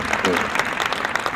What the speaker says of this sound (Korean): 우리를 위해서 한번 박수했으면 좋겠습니다